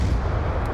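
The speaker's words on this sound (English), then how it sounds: "Grenade!" Grenade explosion in the multiplayer video game Call of Duty: Black Ops 2, a single heavy, booming blast with a rumbling low-end tail, loud and close, lasting under a second.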